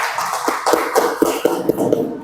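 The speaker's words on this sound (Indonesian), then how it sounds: "Beri tepuk tangan untuk kita semua." A few hands clap in a quick, even rhythm, around eight sharp claps up close that fade out at the end.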